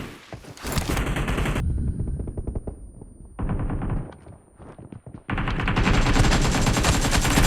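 Rapid automatic gunfire in the BGMI battle game, dense bursts of machine-gun shots broken by brief pauses, loud and close.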